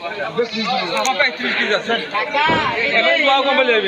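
Totapuri goats at a rainy goat market in Kalitala bleat several times in a busy, close mix, with people chattering and someone talking throughout.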